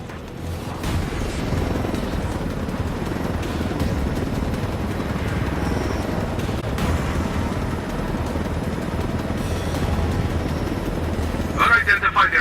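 A helicopter flying in the video game Ghost Recon Wildlands gives a loud, steady rotor and engine roar that holds for the whole stretch, with a brief burst of sharper noise near the end.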